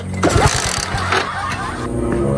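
Engine out of gasoline failing to start, sputtering and cranking in uneven bursts up close, with a faint voice underneath.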